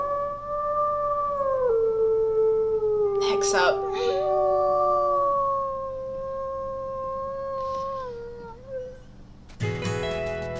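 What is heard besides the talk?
wolf howling in the video game WolfQuest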